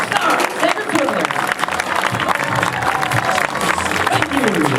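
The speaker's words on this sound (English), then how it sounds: "let's give a big round of applause for our first portion" An outdoor crowd at a national show ski tournament claps and cheers continuously, with someone talking loudly over the applause throughout.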